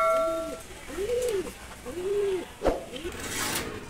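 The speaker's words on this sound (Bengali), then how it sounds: "এক জোড়া একেবারে ডিম নিয়ে বসে রয়েছে কবুতরগুলো" Pigeons coo in a close, soft rhythm of three or four rounded calls, with a brief knock of wood partway through and faint background noise.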